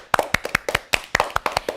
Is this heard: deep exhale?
no